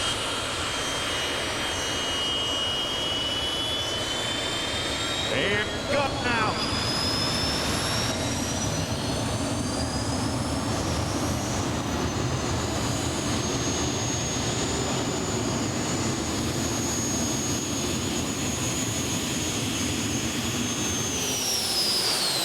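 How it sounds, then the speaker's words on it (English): Twin turbine engines of a super modified pulling tractor at a 2023 Pro Pulling League event roar loud and continuous, with a high whine climbing in pitch and holding; someone speaks briefly early on. "Now he's going to fire the two main engines here."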